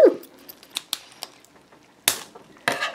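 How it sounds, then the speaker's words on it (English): Scissors snipping into a squishy toy, a series of sharp separate clicks and crunchy cuts, close and fairly loud, with quiet gaps between them. "So I got my scissors. I'm gonna chop it."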